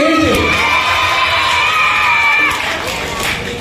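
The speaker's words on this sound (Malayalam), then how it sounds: "ഗത്സമന ഗ്രൂപ്പിന് 40 പേര് കൈയടിച്ച്" Children's group at a church Vacation Bible School in Kerala clapping and cheering, loud excited shouting from a close crowd that eases off toward the end.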